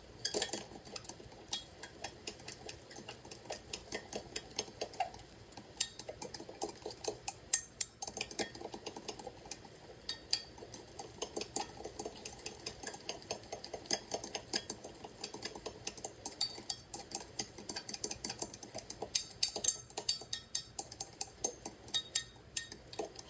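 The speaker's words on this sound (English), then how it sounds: "I'm just going to stir this until there's no lumps." A utensil stirs a lumpy mixture in a bowl, making quiet, steady scraping and clinking ticks that repeat in an irregular rhythm at close range, with no voices.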